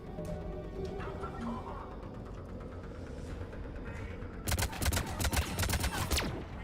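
Sniper rifle gunfire in the video game Mass Effect 3, a rapid run of sharp, loud cracking shots in the last couple of seconds over a busy battle backdrop, with a voice talking earlier.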